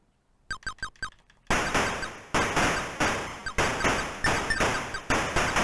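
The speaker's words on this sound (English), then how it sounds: "I seem to occasionally shoot empty spaces that make that pinging noise" Pinging blips from shots fired into empty spaces in the Atari ST shooter Plutos: a quick run of short bright chirps, then a steady stream of repeated electronic hits over game music.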